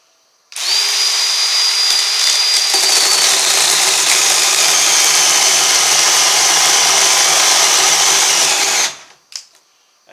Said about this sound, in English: This is an 18-volt Ryobi chainsaw.